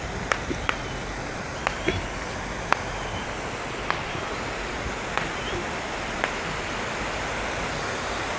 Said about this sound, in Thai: มีน้ำตกตาบน้อยแล้วนี่